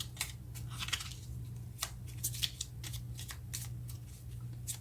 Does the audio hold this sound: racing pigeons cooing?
no